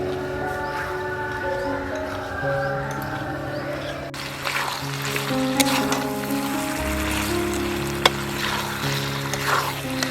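Andhra-style chicken curry sautés in a pan with a steady, soft sizzle and occasional stirring, heard beneath a layer of sustained background tones.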